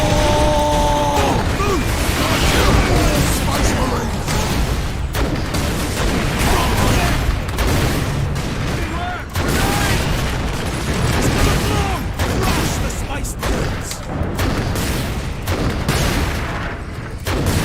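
Heavy explosive launcher fire in the Warhammer 40,000: Space Marine video game, dense overlapping booms and blasts throughout a loud, continuous battle mix with shooting and voices underneath.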